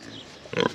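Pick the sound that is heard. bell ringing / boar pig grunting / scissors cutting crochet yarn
boar pig grunting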